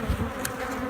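A swarm colony of honey bees hums inside a hive as frames are checked, a brief steady close buzz with no talking.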